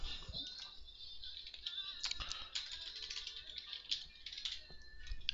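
Typing on a computer keyboard, a rapid, uneven run of light plastic key clicks close by, with a soft voice faintly audible underneath.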